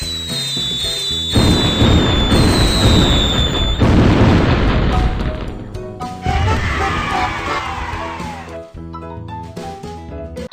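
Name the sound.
fireworks exploding in a cartoon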